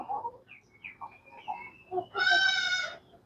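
A goat gives a loud, wavering bleat near the end, after a few softer chirping calls and snuffles close by.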